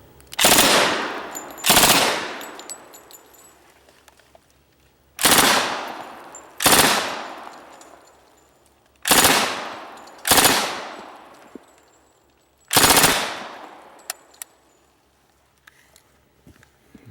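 An M1 Thompson submachine gun fires six short full-auto bursts in a row, each a loud sharp rattle that rings out and decays before the next, with gaps of one to two seconds between bursts.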